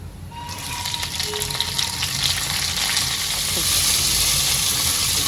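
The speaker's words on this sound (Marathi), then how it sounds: "वालपापडीला जे आहे मी चांगलं तेलामध्ये तळून घेते" Flat beans (val papdi) fry in oil over a low flame, a broad, steady sizzle that swells louder toward the end, with a brief utensil ring early on.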